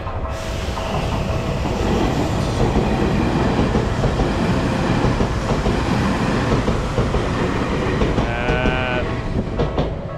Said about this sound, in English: here's your first train of the day